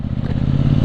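A 2018 KTM 790 Duke motorcycle engine pulls hard under acceleration, a loud, close, continuous low growl with rough pulsing texture and slight clatter throughout the brief moment.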